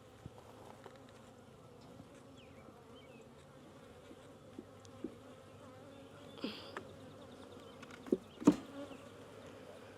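Honey bees buzz steadily around a beehive being installed, a soft low drone of many insects with a few louder close passes and brief knocks near the end.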